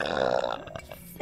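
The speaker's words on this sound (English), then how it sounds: "Wanna get burped on?" One throaty burp from a young woman, loud and close, rumbles out for most of a second and then trails off into quiet.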